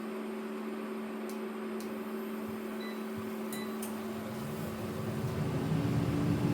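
A microwave oven heats fries, giving a steady close whirring hum with a couple of faint clicks, and the drone grows slightly louder toward the end.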